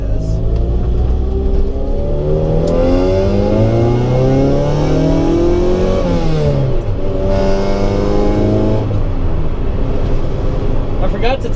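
A 1990 Honda Civic DX fitted with coilovers drives along a rough, crappy road, its engine droning loud and close and rising in pitch through the gears, with a constant rumble from the road surface.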